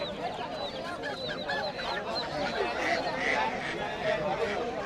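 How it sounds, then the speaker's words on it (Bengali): Chinese goose goslings and geese honk and peep in a busy, noisy rural market, with overlapping chirpy calls and people talking in the background. "চীনা হাঁসের বাচ্চা"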